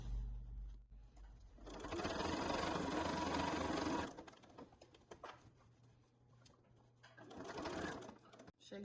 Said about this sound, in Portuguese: dando retrocesso e costurando o restante que falta para fechar o fole